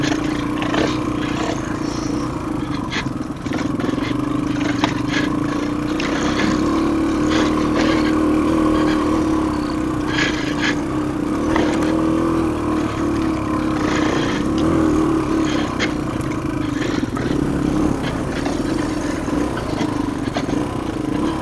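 An engine runs steadily nearby with a low droning hum and slight swells in pitch, like idling with mild revving, loud and continuous throughout.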